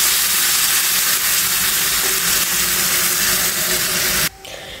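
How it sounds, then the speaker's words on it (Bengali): Hot water poured into a pan of fried, spiced masala for a koi fish and drumstick curry makes a loud, continuous steaming hiss and sizzle that cuts off abruptly near the end, with no voices. "এখন আমি ঝোলের জন্য জল দিয়ে দিচ্ছি, আর এটা কিন্তু আমি গরম জলেই দিচ্ছি।"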